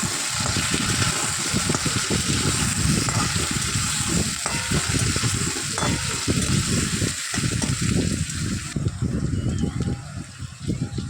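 Potatoes frying in oil in a pan on an induction cooker, a steady dense crackling sizzle with stirring scrapes throughout, close and fairly loud.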